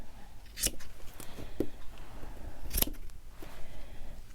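A few sharp, separate snips of scissors cutting around a glued woven fabric piece, close and fairly quiet, with faint rustling between the cuts.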